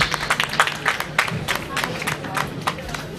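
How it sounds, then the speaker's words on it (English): A small audience at an anniversary event and public lecture in a Benin City event centre gives a brief round of applause, scattered distinct claps with voices murmuring underneath. "Please, a round of applause for them."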